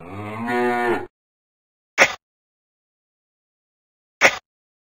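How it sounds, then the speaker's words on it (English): A single cow moos for about a second, a full, drawn-out bellow, followed by two short, sharp clicks spaced apart against silence. "Cow."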